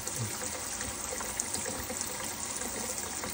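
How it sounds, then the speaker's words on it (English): Excess copper sulfate plating solution dripping and trickling off a foiled glass piece, a steady faint liquid patter with no voices. "Then we let the excess drip off."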